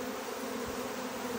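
Package honey bees being shaken out during installation into a top bar hive, giving a steady, continuous droning buzz that holds evenly throughout with no talking.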